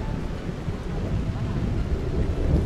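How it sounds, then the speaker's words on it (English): Thunderstorm ambience from a tavern management video game, a steady low rumbling wash of rain and wind with rolling thunder, fairly loud and continuous throughout, with no voices over it. "Big thunderstorm on the outside today."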